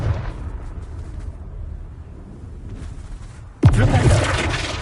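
The Confringo spell goes off in Hogwarts Legacy. A muffled ambient background gives way to a sudden booming blast that rumbles on loudly to the end.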